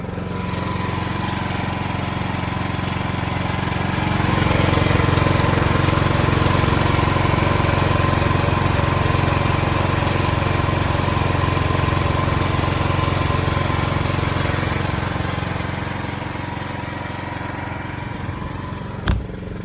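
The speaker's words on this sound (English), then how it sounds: "Let's go check on the generator." A backup generator engine powering a garage building runs in a loud, steady drone that holds constant throughout and eases off slightly near the end.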